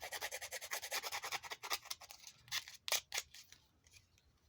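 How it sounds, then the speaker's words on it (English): The edge of a pair of scissors scrapes repeatedly along a paper tag, giving fast, rhythmic rasping strokes that are quiet and close, then slow into a few separate scratches before fading out. "I'm going to use the edge of my scissors"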